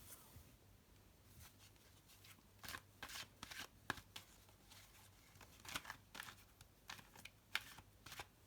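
Tarot cards being shuffled by hand in a quiet room, a run of soft crisp riffles and slaps in irregular bursts, close and fairly faint with no talking.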